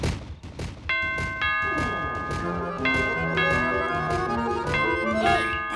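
A cartoon ape's voice mimics a doorbell, repeated ding-dong chimes ringing out over busy cartoon music and thumping, several rounds of two-note bell tones in quick succession.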